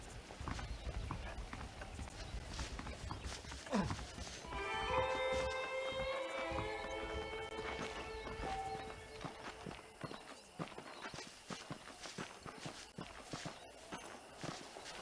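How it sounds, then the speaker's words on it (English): Saddled horses in Red Dead Redemption walk with a steady clip-clop of hooves throughout, joined by a brief whinny and some music-like tones in the middle of the game scene. "The horses are saddled up over here."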